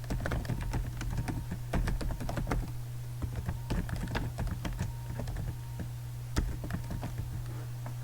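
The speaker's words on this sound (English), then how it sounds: "I will start typing records from that list." Steady clicking of keys on a computer keyboard, quick irregular keystrokes continuing throughout over a low constant hum.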